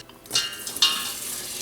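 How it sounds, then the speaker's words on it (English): Red onions going into hot olive oil in a medium saucepan over medium heat, a soft sizzle with a couple of light clattering knocks of the pan, close and fairly quiet, no talking. "in a medium saucepan over medium heat, I'm adding olive oil"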